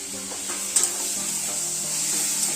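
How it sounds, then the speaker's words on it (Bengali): Chopped tomato goes into a salted frying pan for egg curry and is stirred in. A continuous sizzle runs throughout, with a few soft scraping stir strokes near the start and no speech. "এবার আমাদের টমেটো কুচি দিলাম"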